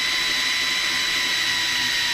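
A drill bit bores through metal to make holes for fan screws, producing a loud, steady high-pitched whine that holds evenly for about two seconds with no voices.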